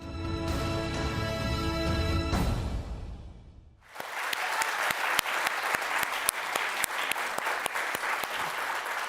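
Studio audience on a Turkish daytime talk show breaks into sustained, lively applause with crisp individual claps, following a few seconds of softer tonal music, with no voices over it.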